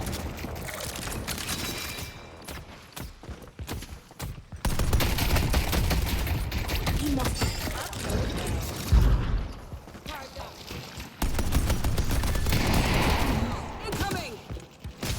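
Rapid bursts of automatic gunfire from turrets in a video game, loud and sustained across the clip, with overlapping booms and mechanical clatter and a voice talking at times.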